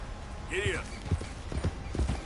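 A horse moves off at a walk with a series of soft, close hoof clops at an even pace, opening with a short whinny-like call and with a low voice present.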